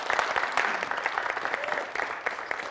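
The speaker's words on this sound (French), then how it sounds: "Merci d'applaudir pour tous les participants." Audience applause for the participants of a Valentine's Day couples' show, with sustained, dense clapping and sharp individual claps standing out across nearly three seconds.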